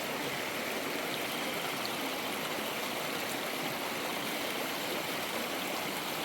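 Flowing stream water rushes and babbles in a steady, even wash of noise, close and continuous, with no voices over it.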